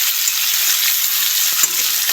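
Vegetable stems frying in a pan for a Bengali shukto, giving a loud, dense, continuous sizzle close up with a couple of faint knocks of stirring.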